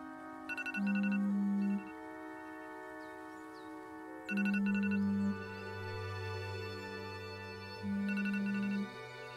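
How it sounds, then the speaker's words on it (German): A telephone in the Alfred Hitchcock Vertigo video game rings in three bursts, each a loud trilling electronic ring about a second long, separated by long pauses over a steady low musical drone. "Immer wieder dieses störende Telefon."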